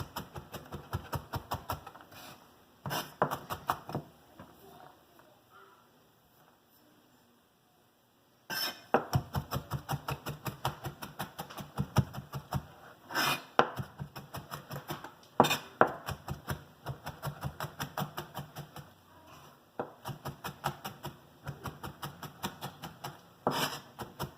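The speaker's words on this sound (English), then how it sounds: "Then we're going to put our hand firmly flat on top and give this a mince." A knife rapidly minces food on a cutting board, delivering bursts of sharp, rhythmic chops close by, separated by brief pauses and one longer quiet stretch.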